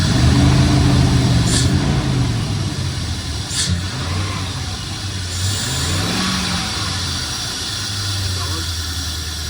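A Jeep engine idles steadily during an injector pressure test, a continuous mid-pitched hum close by with slight rises in pitch, while people talk over it.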